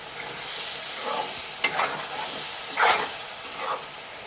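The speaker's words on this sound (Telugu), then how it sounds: "ఇంకా మంచిగా కలుపుకోవాలి" Ridge gourd curry stirred in a pan with coriander near the end of cooking: a soft steady sizzle with a few scraping sweeps and spoon knocks, close by and without talk.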